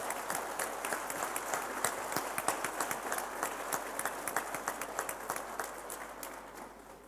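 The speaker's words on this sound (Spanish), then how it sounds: "pediría un aplauso por la gente que trabaja" Conference audience applauding at a dairy industry event, many hands clapping in a lively, slightly uneven patter with individual claps standing out, steady and then tapering toward the end.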